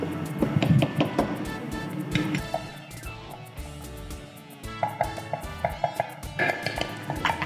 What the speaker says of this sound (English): So you mash the cube.